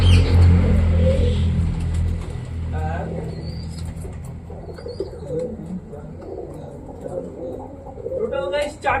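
Pet pigeons in their loft give a few soft coos and wing flutters amid a rumbling engine nearby, with a voice talking underneath.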